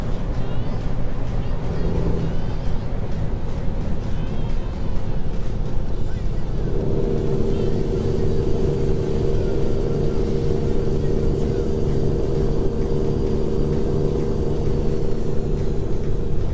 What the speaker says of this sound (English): I'm caning the engine yet again